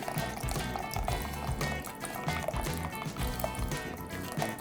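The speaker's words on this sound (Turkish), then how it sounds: "Buna 4 çorba kaşığı da sirke ekliyorum." Four tablespoons of vinegar are poured into olive oil, a close, continuous liquid splashing and trickling with small kitchen noises over a few seconds.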